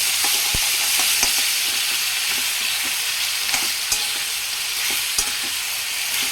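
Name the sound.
stirring capsicum pieces frying with ginger paste in pan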